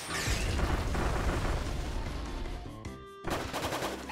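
Rapid booming blasts from the crash ability in Kirby Return to Dreamland Deluxe, a dense loud burst of explosions that drops out briefly before another surge.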